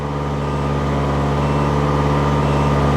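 A Ferrari engine fitted in an Alfa Romeo 105 idles high at a steady, even pace. It runs close and loud, with no break in its low drone.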